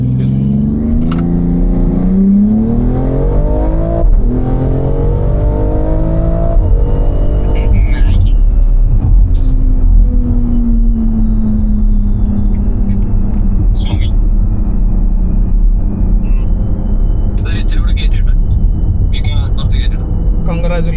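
A BMW X3M fitted with an Active Autowerke S58 exhaust revs and pulls with loud, rising engine rumble, then settles into a steady drone with faint higher whines; a voice talks over it at times.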